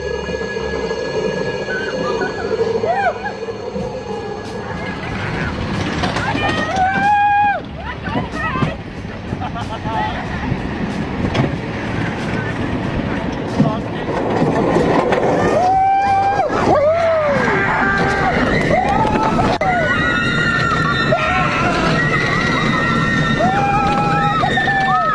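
A roller coaster train roars through steep drops, turns and inversions, with rushing wind and a continuous rumble mixed with high squealing screams and rising and falling whistles.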